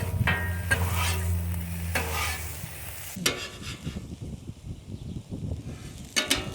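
Peppers, onions and ham sizzle in a frying pan, with a steady hiss and stirring scrapes, then a sharp toss partway through followed by crackling frying and another clatter near the end.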